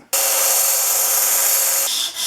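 Sanding and lapping the chipped leading edge of a Stanley No. 6 fore plane's lever cap: a steady, loud, close abrasive rasp that runs for nearly two seconds, then stops abruptly.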